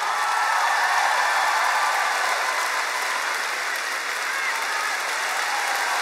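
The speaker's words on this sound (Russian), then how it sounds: "Эти аплодисменты вам!" A large concert audience applauds in an arena, a broad, even wash of clapping that holds steady throughout with no breaks or speech.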